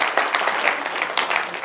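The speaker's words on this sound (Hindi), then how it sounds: "तालियां कम हैं आपकी, मैंने कहा अच्छी कविता पर और ज्यादा समर्थन मिलना चाहिए" Audience applause at a Hindi poetry gathering, a short burst of close, dense clapping with distinct sharp hand claps standing out.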